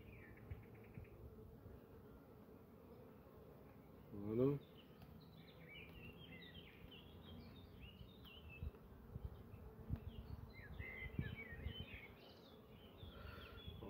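Honeybees buzz faintly and steadily throughout a hive inspection of a new swarm colony, with brief handling noises near the start and no talk.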